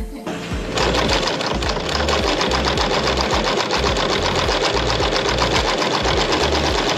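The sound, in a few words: sewing machine sewing a van mosquito net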